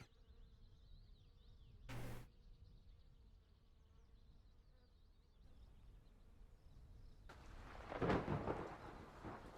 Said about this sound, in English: Oh, we had a thunderstorm in there.